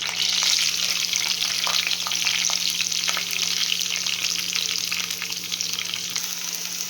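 Onions and green chillies sizzle in hot oil with mustard seeds and curry leaves, a loud, steady crackling fry with faint scraping of a spoon and a constant low hum underneath.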